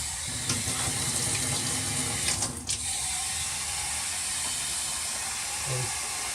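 Hot water running from a tap into the tank of a Bissell 3624 Spot Clean Professional portable carpet cleaner, a steady loud hiss of pouring water that briefly dips midway, then continues evenly.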